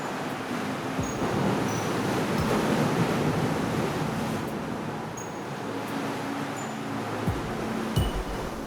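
Sea waves wash steadily against rocks along the seaside, a continuous broad rushing surge with some wind noise, close and fairly loud, with no voices.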